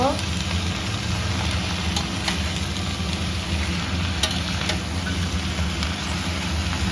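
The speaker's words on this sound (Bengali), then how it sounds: "নেড়ে মিশিয়ে নেব" Mixed vegetables with spinach, salt and turmeric sizzle steadily in a pan while being stirred, a dense continuous frying hiss with a few faint clinks, close and loud, no talk.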